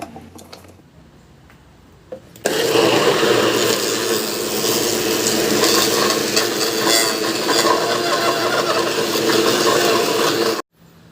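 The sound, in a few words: blender crushing canned corn with coconut milk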